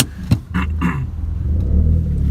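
Peugeot 208 GTI by Peugeot Sport with a 1.6-litre turbo engine and sport exhaust, driving off: a deep, steady engine rumble that builds and grows louder, with a few brief knocks near the start.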